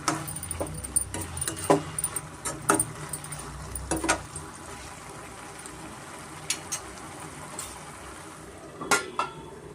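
Grated carrot halwa being fried and stirred in a pan over medium flame, giving irregular scraping clinks of a spoon against metal with a soft sizzle underneath, fairly quiet and close.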